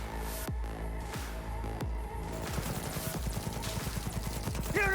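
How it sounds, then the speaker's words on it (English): Rapid gunfire from a firefight in the video game Cyberpunk 2077, a few heavy shots at first and then a dense, steady burst of automatic fire over a constant background of music and hum. "Opening fire"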